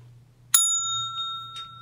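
A single bright bell strike rings out with a long sustained metallic tone, followed by a faint second tap, over a low steady hum.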